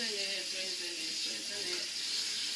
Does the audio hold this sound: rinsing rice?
yes